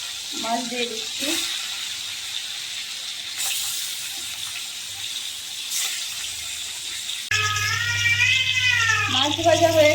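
Fish coated in salt and turmeric sizzles in hot oil in a wok, a steady frying hiss that runs throughout, with a voice briefly at the start and a louder hum and more talk near the end.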